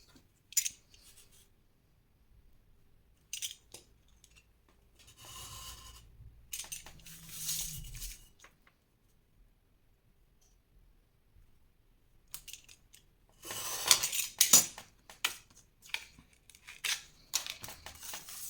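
Scrapbook paper being cut with scissors, heard as close, intermittent crisp snips and paper rustling, with quiet gaps between cutting bursts and a louder cluster of cuts near the end.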